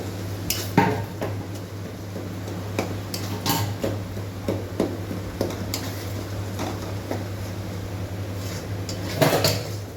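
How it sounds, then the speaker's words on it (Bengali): Masala being stirred in a pan, with repeated light scraping and clinks of a utensil against metal over a steady low hum, irregular and moderately close. "আমি একটু নাড়াচাড়া করে দিচ্ছি।"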